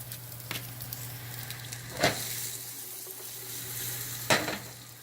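Shallots, garlic and peppers fry with sausages in a pan, a soft steady sizzle broken by two louder bursts as the food is stirred or moved, with no speech.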